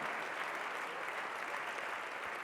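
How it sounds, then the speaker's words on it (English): A crowd at an evening honoring event applauds continuously, giving a dense, even wash of many hands clapping at moderate loudness with no voices over it. "Give him a big round of applause here tonight as well."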